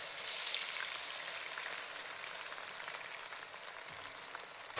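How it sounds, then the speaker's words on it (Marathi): Garlic fries in oil for a crunchy murmura (puffed rice) chivda, with an even, fine bubbling sizzle that holds steady throughout, at moderate volume, and a small bump of noise at the very end. "लसण पण छान असं तळून घ्यायचं आहे।"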